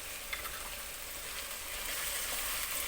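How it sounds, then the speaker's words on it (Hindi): Cumin, coriander powder, pepper powder and salt fry in a pan for a creamy restaurant-style white chicken, giving a steady, soft, close sizzle that hisses evenly throughout with no talking. "और इसे अच्छे से भून लेंगे।"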